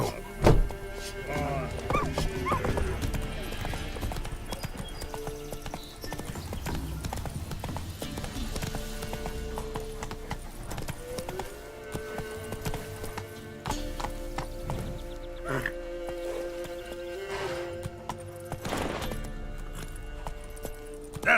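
Hooves of Roach, Geralt's horse in The Witcher 3, clip-clop in a steady galloping rhythm with occasional snorts and whinnies, set against a busy game soundtrack of music and ambient effects.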